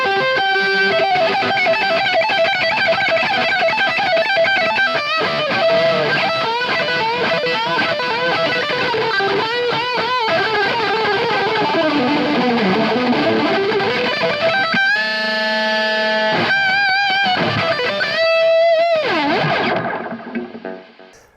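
Electric guitar through a Zakk Wylde Overdrive and MXR Carbon Copy delay into a Marshall SV20H amp, playing a distorted solo with bends and sustained notes trailing echoes, loud and continuous before fading out at the end.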